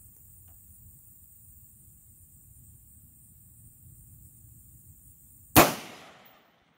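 A rifle bullet strikes a steel target 500 yards downrange, giving one sharp, loud impact crack with a short ringing tail near the end, after a long stretch of quiet, steady wind and low rumble.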